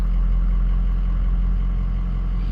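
A 2004 Ford F250 6.0 Powerstroke diesel engine idles steadily, a low rumble even and unchanging throughout, close and moderately loud.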